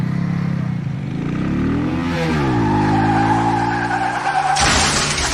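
A motorbike performing a stunt roars loudly, its engine pitch sweeping up and down as it revs, with a harsh burst of tire noise near the end.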